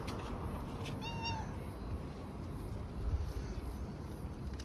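A pet cat gives one clear, close meow that rises and falls, set against a soft background hum.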